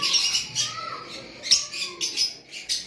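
Several pet lovebirds chirp and tweet close by in quick, uneven bursts, a lively overlapping chatter with no talking.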